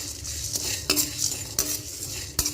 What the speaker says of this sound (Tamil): இந்த ஸ்பைசஸ் எல்லாத்தையும் வந்து லோ ஃப்ளேமில் வச்சு நல்லா ட்ரை ரோஸ்ட் பண்ணி எடுத்துக்கலாம்